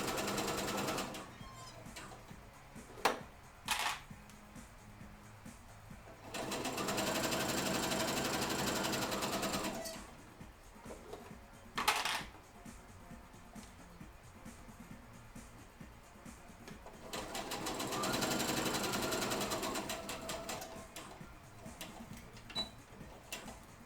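A sewing machine stitches a garment in two sustained runs of fast, even mechanical whirring, separated by quieter pauses filled with clicks and handling noises, fairly close but moderate in level.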